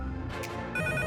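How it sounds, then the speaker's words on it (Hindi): A telephone ringtone with a steady electronic tone plays briefly in a home setting, clear and fairly close, with no talk over it. "शायद फोन बज रहा है।"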